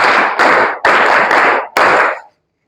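Several bursts of loud, close hand claps in a classroom, three or four separate rounds, each ending abruptly, the last one cutting off into silence.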